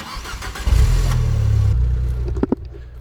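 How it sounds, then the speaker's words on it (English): An old camper van engine cranks and catches with a loud, deep roar. It runs rough for about a second, then the roar drops away, leaving a few clicks and knocks. "My car is loud as f."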